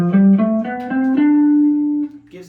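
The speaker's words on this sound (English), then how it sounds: "Dorian, our second mode, is a minor scale, but it has a raised sixth in it." A guitar plays a few notes of the Dorian mode, a minor scale with a raised sixth, plucked one after another, with the last note sustained and ringing clearly before it fades.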